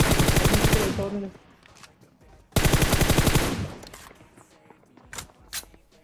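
Automatic gunfire in the mobile battle-royale game PUBG Mobile, two loud sustained bursts of rapid shots, each trailing into scattered single shots and quieter game sounds.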